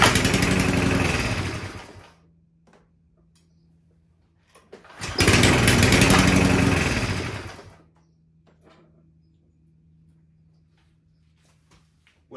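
Sovereign XSS40A lawn mower engine, a fuel-related fault, pull-started twice: each pull gives a loud two-to-three-second burst of sputtering engine noise that dies away, followed by a faint low hum and quiet handling sounds.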